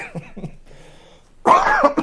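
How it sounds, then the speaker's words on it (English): A few soft coughs or throat-clearing sounds at first, then a loud, harsh cough burst near the end, close and alone. "I got a really bad cold cough last week"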